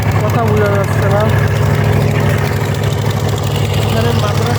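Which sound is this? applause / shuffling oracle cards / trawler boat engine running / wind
trawler boat engine running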